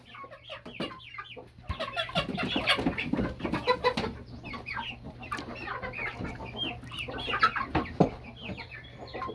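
Around fifty mixed chickens, including Golden Laced, Easter Eggers, Ameraucanas, partridge and buff Brahmas and Silver Laced Wyandottes with roosters among them, cluck and squawk together in a busy, irregular chorus over a faint steady hum.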